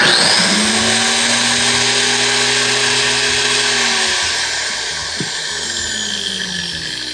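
An angle grinder running on generator power while building round wood log siding for a cabin gable end, a loud steady high whine with a low engine drone beneath that eases slightly toward the end.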